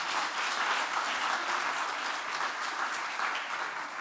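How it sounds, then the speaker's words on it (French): An audience at the Ibn Khaldoun-Senghor Prize award ceremony applauds, a steady, even patter of many hands clapping at moderate loudness from start to finish. "Vous pouvez l'applaudir, hein, vous êtes bien timide."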